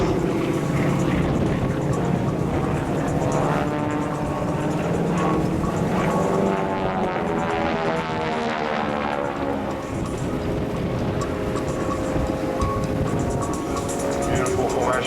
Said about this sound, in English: let's listen to the roar of those engines